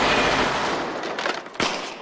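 Gunfire at a shooting range, a dense burst of loud rapid shots fading into scattered sharp cracks, with a final sharp report near the end, heard close and without speech.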